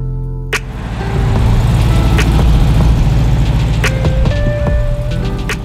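A car runs steadily with a low engine rumble and road noise close by, joined by a few sharp clicks and brief tonal beeps, with no talking.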